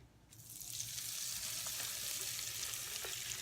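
Chicken tenders frying in hot oil in a fryer basket, a dense steady sizzle that swells up within the first half second and holds at an even level, close by, with no voices.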